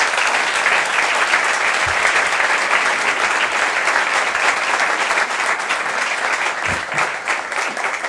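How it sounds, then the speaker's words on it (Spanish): Sustained, dense audience applause fills a large hall at the Club de los Viernes award ceremony honouring President Milei, holding steady and loud for the full eight seconds without letting up. "que sea nuestro aplauso la muestra del merecido respeto y admiración que tenemos por don Jesús."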